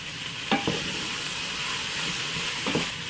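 Corn sizzles steadily in a frying pan while a utensil scrapes through it in a few brief strokes, a constant hiss of frying underneath.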